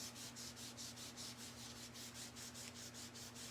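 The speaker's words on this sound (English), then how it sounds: "I like to use my my 220 grit sandpaper." Sheet of 220 grit sandpaper rubbed back and forth along the edge of a wooden 80s hall tree, a quick even rhythm of rasping strokes, close and fairly quiet.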